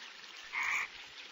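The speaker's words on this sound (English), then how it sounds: "These sounds are made by male frogs to attract females as it's their breeding season." A male frog croaking during the monsoon breeding season, one short, buzzy call rising clearly out of a soft, steady hiss of background noise.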